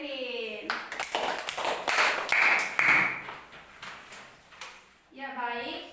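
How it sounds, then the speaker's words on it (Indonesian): Classroom applause for two students, Galio and Kevin, during a lesson: a brief burst of clapping from pupils, fairly close, with a teacher's voice talking before and after. "Tepuk tangan untuk Galio dan Kevin"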